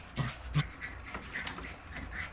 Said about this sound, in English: my dog's acting crazy